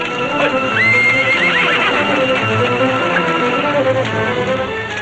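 Horses whinny loudly over a steady background, with shrill rising neighs and the clatter of hooves mixed in.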